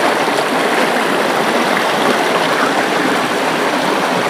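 Rushing water of a jungle waterfall and stream in Kalimantan, pouring over rocks in a steady, loud, unbroken broadband roar close by.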